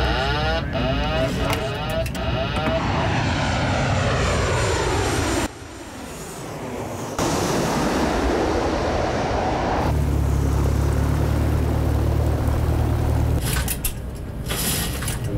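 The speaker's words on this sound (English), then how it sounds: "He's taxiing on the runway." A fixed-wing plane's engine drones steadily and close while the aircraft taxis on a runway, with a shifting pitch and a brief dip partway through.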